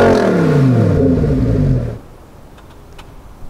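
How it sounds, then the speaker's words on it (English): A Lamborghini Huracan EVO RWD with a full race exhaust gives a loud, deep rev that sweeps down through a throaty exhaust roar, then cuts off abruptly into near silence with faint ticks. "fitted with our complete race sport exhaust system, we're going to see just how loud it is"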